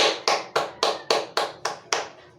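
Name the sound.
students applauding themselves by clapping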